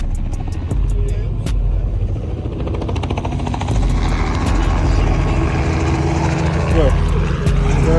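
A helicopter flying over a car show, a loud rotor drone and propeller chop steady across the clip, with crowd noise and a brief spoken word.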